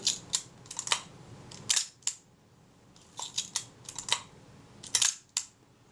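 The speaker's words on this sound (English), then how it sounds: "I'll try cocking the shutter" Several sharp mechanical clicks and ratcheting snaps come close up in small bursts with short pauses as the shutter of a Reflex S camera is cocked.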